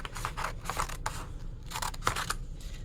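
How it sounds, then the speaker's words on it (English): Scissors snip through paper while cutting out shapes, a series of crisp, close cuts in two quick clusters over a low background hum. "I'm going to use my scissors and carefully cut them out"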